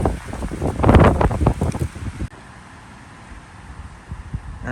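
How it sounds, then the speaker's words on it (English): Strong wind gusts at a lake shore in North Georgia in February, loud and blustery for the first two seconds and then dropping to a softer, steady rush near the microphone. "I don't know if you guys can hear that wind"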